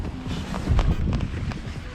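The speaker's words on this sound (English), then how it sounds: "Holy crap, super windy." Strong gusting wind buffets an outdoor microphone, a low rumbling roar that swells in the middle and stays loud throughout.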